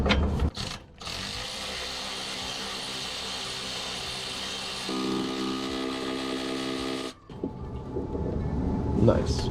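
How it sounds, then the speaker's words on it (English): Wrench loosening the exhaust Y-pipe bolts beneath a Nissan 350Z, giving a steady mechanical ratcheting grind with a clicking stretch partway through, close and fairly loud before stopping abruptly. "Now that we got the front two loosened, we're able to get this last two bolts broke free"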